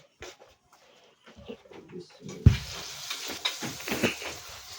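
Coated snack pieces frying in hot oil, a steady sizzle rising in the second half with a few stirring clatters, preceded by quieter handling sounds.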